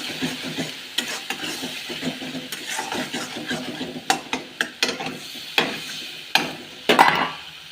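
Chilli powder masala frying in a pan for an egg curry is stirred: a continuous close sizzle broken by sharp clacks and scrapes of the spoon against the pan, irregular and growing more frequent, without talking.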